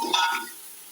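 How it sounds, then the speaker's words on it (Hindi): Tomatoes and masala being stirred as they fry in a pot for Karachi-style Naseeb biryani, a short burst of sizzling and scraping that fades within a second. "5 मिनट टमाटर भूनने के बाद अब हम नमक मिर्च ऐड कर देंगे और अच्छी तरह से मिक्स करेंगे।"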